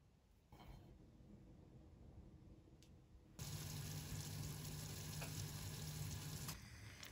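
Butter and oil heat quietly in a pan, then tomato paste goes in and the frying jumps to a loud, dense, continuous sizzle that carries on for several seconds before easing off.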